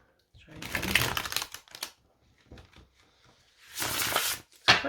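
Tarot cards being shuffled by hand: two bursts of crisp riffling and flapping, each about a second long, separated by quieter soft card handling, close up with no talking.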